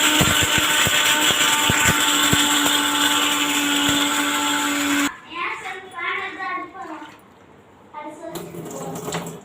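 A mixer grinder whirs loudly and steadily while grinding grated coconut with five cardamom pods, then cuts off after about five seconds and talking follows.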